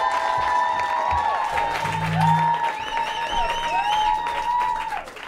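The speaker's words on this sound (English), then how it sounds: "Clap for Harriet." A live spoken-word and performance road show crowd claps and cheers for a performer taking the stage, loud applause mixed with whoops and shouted voices rising and falling throughout.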